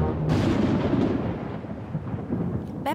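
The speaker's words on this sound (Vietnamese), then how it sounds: "Là tiếng sấm sét đó con à." Thunder before a storm in a children's cartoon: a loud, deep rolling rumble that swells in and slowly trails off over a few seconds, heard alone.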